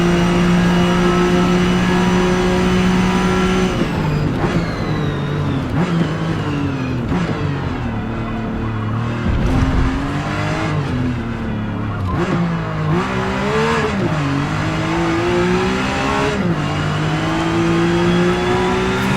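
Rear-engined Porsche 911 lapping a circuit in Forza Motorsport, its engine loud and close as it revs up and drops through gear changes, with squealing tyres in the corners and no talking.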